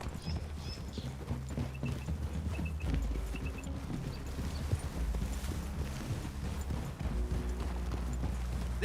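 Horses' hooves clip-clop steadily in the Red Dead Redemption 2 video game, a continuous rhythmic plodding over a dense low rumble and ambient background, with no one speaking.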